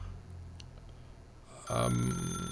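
A telephone in The Stanley Parable video game starts ringing partway through, a loud electronic bell-like ring with a bright harmonic tone rising suddenly over quiet ambient background.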